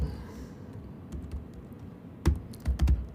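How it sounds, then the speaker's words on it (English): Keys clatter on a computer keyboard the typist is unaccustomed to, a few soft scattered taps followed by a quick louder burst of clustered keystrokes, close and otherwise quiet. "Can you tell I'm not used to this keyboard?"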